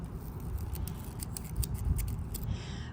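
Dry, crisp, papery crackling and rustling of dry flowers in a backyard, close, with a few brighter crunches, ending abruptly.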